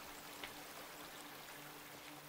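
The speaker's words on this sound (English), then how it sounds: "I hear water." Flowing water of a stream in the video game NUTS, a steady, quiet broadband rushing without pauses and no voices.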